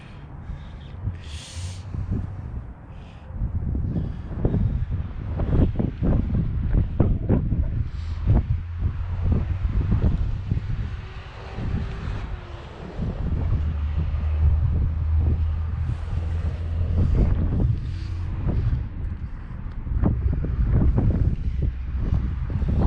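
Strong outdoor wind buffets the microphone in low rumbling gusts while someone connects PVC sprinkler pipe and soaker hose, with scattered handling knocks, loud and continuous.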